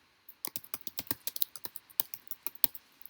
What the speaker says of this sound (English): Or on your PC, just click it or just start typing.